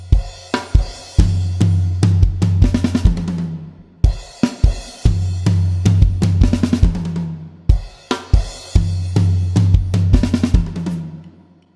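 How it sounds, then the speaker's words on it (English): Drum kit playing an accent pattern with floor toms, sharp cymbal and snare hits over booming tom strokes, a repeated phrase played three times with brief gaps between, close and loud without talk. "So those floor toms kind of happen on the ands, right?"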